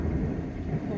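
Thunder rumbles through a night thunderstorm, a loud low continuous roll with rain underneath across the whole second.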